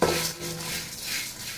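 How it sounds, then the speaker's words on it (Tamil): A brief burst of metal scraping and clinking as chillies and spices are stirred while dry roasting in a pan over a low flame, close and moderately loud with no talking. "லோ சிம்மில் வச்சு நல்லா வறுத்து எடுத்துக்கணும்"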